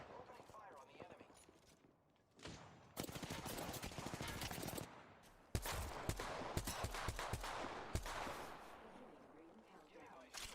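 Rapid automatic gunfire in an Apex Legends match, dense bursts of shots loud and close with sharp individual cracks, continuing across several volleys amid game sound effects.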